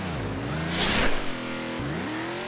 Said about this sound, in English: So this car does go pretty fast.